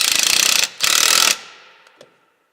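Ratchet wrench tightening the clamp on a Cummins ISX EGR hose: two loud bursts of rapid clicking, the second after a short pause, then fading faint clicks alone.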